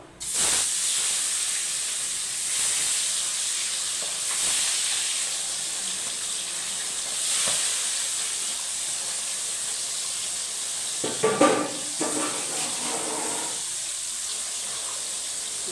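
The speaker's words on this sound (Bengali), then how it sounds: "এই দেখো মাছগুলো এক এক করে ভেজে নেবো" Pangas fish frying in hot mustard oil, a steady close sizzling hiss that runs throughout, with a few brief crackles and clatters near the end.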